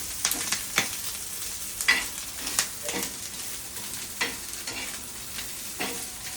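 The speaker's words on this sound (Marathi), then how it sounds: "आता आपण हे पण लालसर भाजून घेऊ, असं काळं नाही करायचं" Masala being roasted for a chicken curry, stirred in a pan with a steady sizzle and repeated scraping strokes of the spoon, close and clear with no talking.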